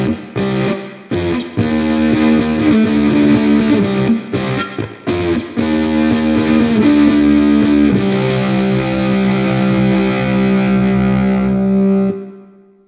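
Fuzz pedal distortion on an electric ukulele, with chords strummed through a Cuvave fuzz pedal on a Fanner Exosphere uke. Thick, buzzing sustained chords are cut by short choppy stops, then a final chord rings out and fades.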